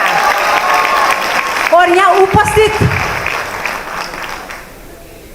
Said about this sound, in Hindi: जोरदार ताली से सम्मान कीजिएगा